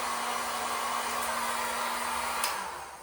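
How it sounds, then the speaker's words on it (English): Heat gun blowing hot air to shrink plastic wrap around cupcake bath bombs, a loud, steady roaring whoosh with a faint motor whine underneath that tapers slightly at the end, close and without talk. "as I'm hitting this with the heat gun"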